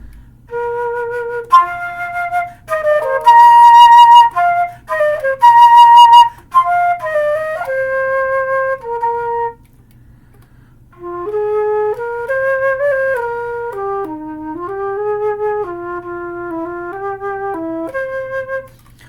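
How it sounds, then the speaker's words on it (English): A solo flute plays a bright melodic line of held and moving notes, pausing briefly midway before continuing with a lower, smoother phrase. "So this is the flute."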